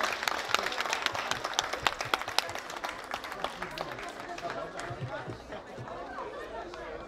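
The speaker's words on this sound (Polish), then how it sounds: "Ręce są tego, żeby klaskać." A concert crowd claps hands in quick rhythmic unison at an outdoor show in Białystok, the sharp beats loud and close over crowd chatter and a voice. The clapping thins out toward the end.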